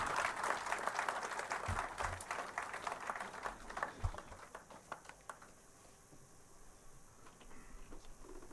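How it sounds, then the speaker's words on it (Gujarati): Audience applause welcoming a speaker at a book talk, a soft, somewhat distant patter of many hands that thins out and fades after about five seconds. "તાળીઓના ગડગડાટથી વધાવીએ શ્રી રૂપાલા સાહેબને."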